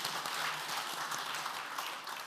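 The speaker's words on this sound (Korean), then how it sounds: "은혜로운 말씀을 전해주신 목사님께 감사의 박수 드리겠습니다" A church congregation at a men's prayer meeting gives a short round of thanks applause for the pastor, soft and diffuse steady clapping heard from a distance for a couple of seconds.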